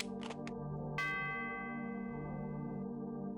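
A bell in the Submachine Universe puzzle game rings once with a bright, sustained chime that slowly fades, following a few short clicks.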